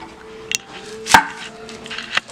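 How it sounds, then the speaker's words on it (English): A knife slicing an onion into julienne strips on a cutting board, a few sharp, separate chops spaced apart and close by, the loudest cut in the middle, with no talking. "I'm gonna do my onion. I'm gonna julienne it"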